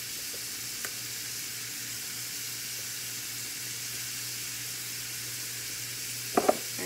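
Green and red peppers sizzle steadily in a pan with a close, constant hiss, broken near the end by a couple of brief scraping clatters as they are stirred.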